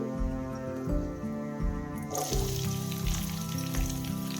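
Oil sizzles and crackles steadily in a pan while chana leaf palya is cooked, a loud continuous frying hiss with a burst of stronger spitting midway, close and with no talk.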